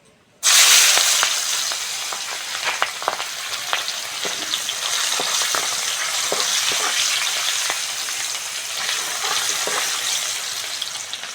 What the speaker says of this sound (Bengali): ওই মাছ ভাজার তেলে কুচনো পেঁয়াজ আর দুটো কাঁচা লঙ্কা দিয়ে দেবো